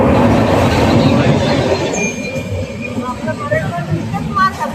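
A crowded passenger train on the Mumbai to Ratnagiri route rumbles and slows to a halt, its loud wheel noise fading with a brief thin squeal while voices murmur nearby.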